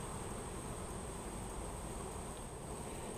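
Honey bees buzz inside an open hive during an inspection of a captured swarm, a dense, steady hum heard close and unbroken throughout, with no talking.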